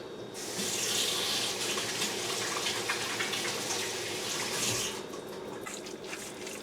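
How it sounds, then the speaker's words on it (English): Tap water runs steadily into a sink as hands are washed, a close, continuous splashing rush that eases slightly near the end. "Now let me wash my hands."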